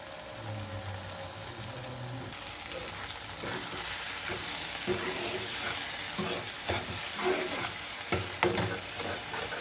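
Onion and masala fry in a pan, sizzling steadily while a spoon stirs and scrapes in bursts, close and fairly quiet, with no voices.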